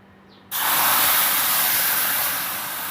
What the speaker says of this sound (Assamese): এতিয়া পেষ্টখিনি মই ভালকৈ ভাজিম।